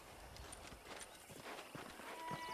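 A horse in the video game Red Dead Redemption clip-clops along at a steady, even pace, its hooves fairly faint and continuous throughout.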